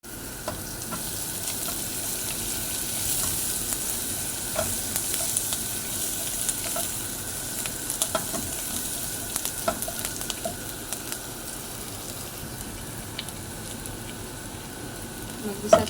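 Vegetables and potatoes sauté in a pan, a steady sizzle with scattered scraping stir sounds and small pops throughout, close up and fairly even in level.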